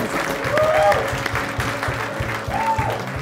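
A television studio audience claps in a dense, steady burst while music with a low rhythmic beat plays underneath and a voice briefly rises over it.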